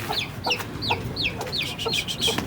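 A well-fed rooster clucks repeatedly at close range, giving short rising calls in a loose rhythm over faint outdoor background noise, with no talking.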